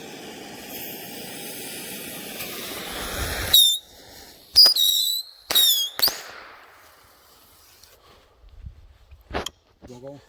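Red Beard bottle rocket launch pad firing with a rising hiss, then a run of sharp whistling pops and cracks close by, followed by quieter scattered bangs, with a person talking between them.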